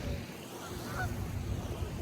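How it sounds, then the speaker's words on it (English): Geese honk by a lake at a lakeside path in Burlington, giving a few faint calls over a constant wash of wind and lapping water, somewhat distant and low in level. "And the geese are shouting."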